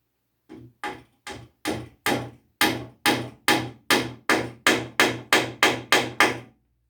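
Fourteen sharp hammer blows drive a wooden wedge in a rocking chair, each a crisp, close thwack in a steady rhythm, growing slightly louder before stopping.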